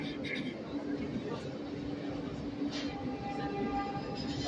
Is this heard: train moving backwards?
yes